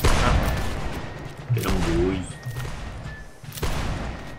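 Musket volley fire in Whigs and Tories line battle, a loud burst of gunfire at the start followed by scattered further shots, with a voice speaking briefly in the middle.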